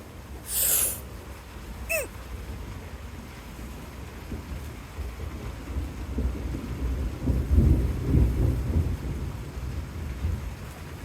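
Low rumbling thunder from a violent storm rolls in and builds over steady rain, with a deep, drawn-out swell toward the end and no voices.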